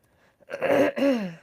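A short, voiced throat clearing in two quick bursts, close and fairly loud, after a moment of near silence.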